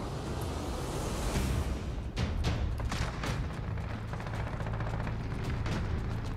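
A gold AK-47 fires in Modern Warfare: repeated sharp gunshots crack over a loud, steady din of in-game battle noise, with no talking.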